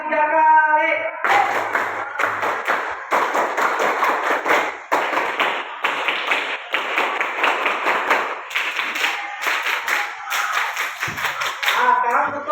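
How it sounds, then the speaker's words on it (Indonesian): A group of schoolchildren performs the rhythmic Indonesian scout clap, tepuk pramuka, in a classroom, sharp patterned bursts of hand claps in repeated short sequences, loud and close. "Tepuk pramuka 3 kali."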